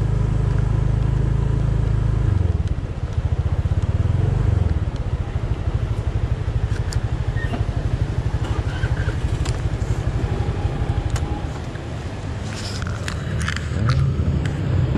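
Motorbikes rumble steadily at a seaside parking lot by Hon Chong beach in Nha Trang, Vietnam. A low, continuous engine drone carries on for the whole stretch with no one talking over it.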